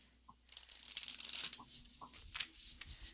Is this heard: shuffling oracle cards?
yes